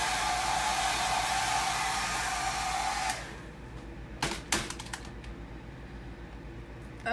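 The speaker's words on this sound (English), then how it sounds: "So I'm just using my hair dryer so that it's not totally wet while I do the next transfer." A hair dryer blows with a steady loud whoosh for about three seconds, drying an ink transfer on a shirt, then cuts off, followed by a few soft clicks and taps.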